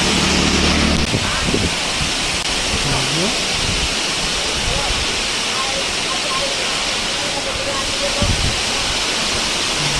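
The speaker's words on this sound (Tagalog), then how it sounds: "Ito ang Tamaraw Falls dito sa Puerto Galera." Tamaraw Falls in Puerto Galera pours in a loud, constant broadband rush of falling water that fills the whole stretch, with faint voices now and then beneath it.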